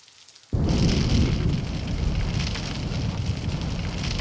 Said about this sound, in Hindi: देख बाहर छमाछम बारिश हो रही है।